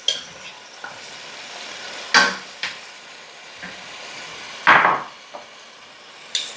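Roma or hothouse tomatoes cook in a pan for a Greek recipe, with a soft steady sizzle broken by several sharp, close stirring scrapes spaced irregularly, and no talking.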